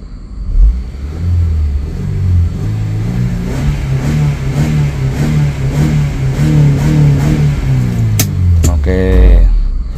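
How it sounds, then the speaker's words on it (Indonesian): A stock 2005 Honda Accord CM5 engine revs hard and holds against the rev limiter, a steady loud mid-pitched drone with a bouncing limiter stutter, then drops away near the end. "dia masih standar mesinnya, jadi dibatasi sama limiter"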